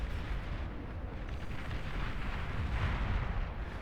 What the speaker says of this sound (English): Those are pretty big shots now.